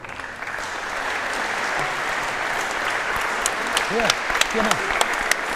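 A crowd applauds steadily for two wallball players at the national finals, dense even clapping throughout, with a brief shout of encouragement near the end.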